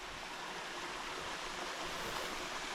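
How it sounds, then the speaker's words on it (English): A stream of running water near a stone wall at Abernethy, a steady, dense rushing hiss that stays even throughout, heard alone. "Load of running water"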